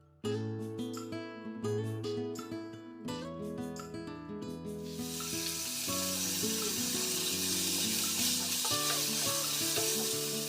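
Chopped onions hit a hot pan and are stirred, with a steady sizzle rising into a dense frying hiss, partly under prominent background music.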